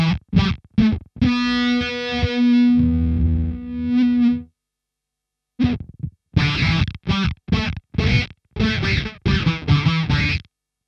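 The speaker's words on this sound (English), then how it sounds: "the fuzz is really gated as well, so you can hear as you hold a note, it just completely chops it off" Heavily gated fuzz from a Way Huge Atreides Analog Weirding Module pedal on electric guitar: a sustained buzzy note that cuts off abruptly into silence, then a string of short, sharply chopped staccato stabs, loud and close with no talking.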